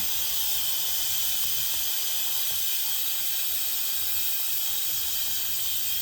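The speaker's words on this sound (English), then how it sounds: "let all that steam come out." A loud, continuous hiss of steam venting from an Instant Pot cooking spaghetti, steady and unbroken throughout with no voices.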